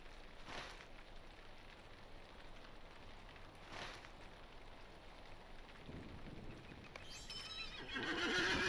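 A horse in Lord of the Rings Online whinnies and its hooves clip-clop softly, with rain falling throughout and a louder rustle of activity near the end, all fairly quiet.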